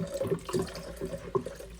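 Water runs from a tap to rinse out a kettle after descaling, a soft, splashy flow with small irregular bursts and clinks against the kettle, fairly close and alone without speech.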